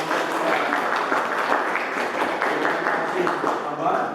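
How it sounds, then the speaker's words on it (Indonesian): A class of schoolchildren claps together for the best group, a dense, steady patter of hands that fills the room at close range with children's voices mixed in. "Kasih tepuk tangan."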